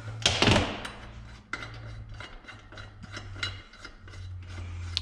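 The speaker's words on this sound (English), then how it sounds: "we're just gonna back off this bolt in the tool" A ratchet backs off the bolt on a valve spring compressor tool during LS4 valve spring installation, with a clank at the start and then a steady run of close, rhythmic clicks.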